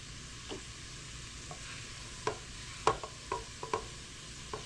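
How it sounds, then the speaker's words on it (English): Vegetables that have already gone translucent being sautéed in a pan, with a low steady sizzle and a handful of sharp scraping and clinking stirs scattered through it, fairly quiet overall. "It doesn't take as long to saute these because they're already translucent."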